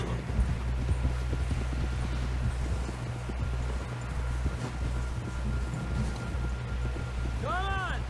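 Horse hooves clip-clop steadily through a Red Dead Redemption 2 game scene, the repeated thuds sitting under a constant low rumble and ambient noise, with a brief tonal sweep near the end.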